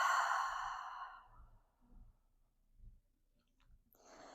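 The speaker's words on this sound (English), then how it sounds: "and exhale out through the mouth." A deep, slow exhale out through the mouth during yoga breathing, loud and breathy at first and then fading, followed by quiet soft clicks and a faint breath at the end.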